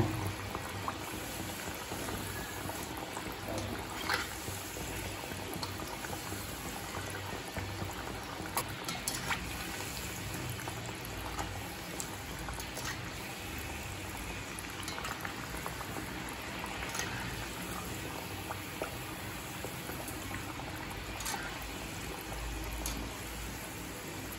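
Masala vada, a lentil fritter, deep frying in oil over a medium flame, a soft steady bubbling and hissing that stays fairly quiet and even throughout, with no voices.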